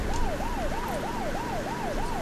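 A wailing ambulance siren from the Lego Marvel Super Heroes video game, rising and falling in a steady rapid cycle about every third of a second, loud and continuous with no talk over it.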